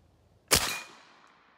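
A single sharp, loud report from a Dragon Claw .50 caliber big bore airgun, heard alone and close, with a short decaying tail.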